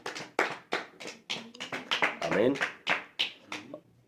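A church congregation clapping hands during a prophetic service, a quick rhythmic series of claps close by, with voices speaking and calling out over them midway.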